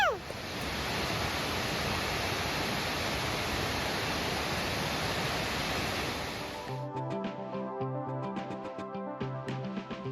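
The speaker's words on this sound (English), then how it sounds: "Can you hear the waterfall?" A waterfall at Kakadu and Litchfield National Park gives a constant broadband rush of falling water for about seven seconds, then cuts off abruptly into quieter scattered sounds.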